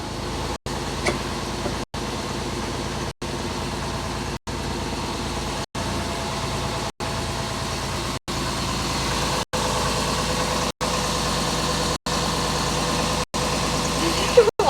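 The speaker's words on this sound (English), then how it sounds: "Engine sounds fine, Big Papa. Engine sounds great." A car engine idles with a steady, even drone that holds at a constant level for the whole stretch, with faint background hum and no clear speech over it.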